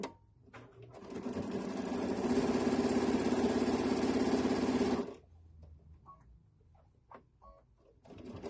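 Sewing machine top stitching a fabric tote bag, running in one steady, loud burst of about four seconds before stopping, followed by faint handling noises.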